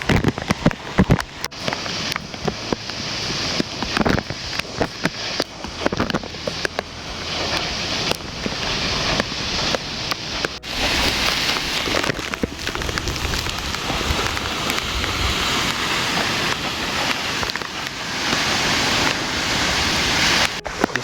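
A waterfall near Mana village, Badrinath, roars in the rain as a broad, loud rushing wash. Sharp bursts and crackles come through in the first half, and the roar grows fuller and steadier later.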